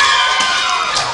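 Junior cheerleaders' cheer at a high school boys' varsity basketball game, a loud, dense wash of young voices chanting and shouting together in a crowded gym.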